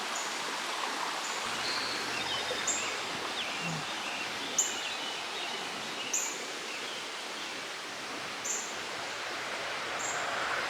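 Steady rushing of creek water flowing, a constant broadband wash with occasional faint bird chirps overhead.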